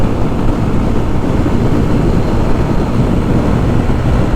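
A Yamaha FZ250 motorcycle ridden above 100 in fifth gear, with a loud, steady engine drone and heavy wind rush, close and unbroken, without any pause or shift in pitch.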